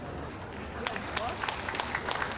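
Audience applause at the Windsor Championship Dog Show during the hound group judging, a steady wash of clapping from a crowd indoors, with a few louder claps standing out.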